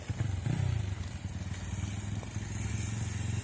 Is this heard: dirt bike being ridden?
yes